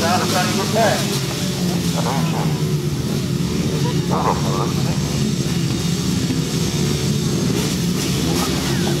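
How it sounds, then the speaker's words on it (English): At the 2016 British Championships, speedway motorcycles rev continuously on the start line in a loud, sustained engine drone while a voice talks over it. "Revving on the line. Still revving on the line."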